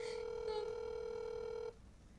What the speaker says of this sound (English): Why is the phone ringing while I'm already on the phone?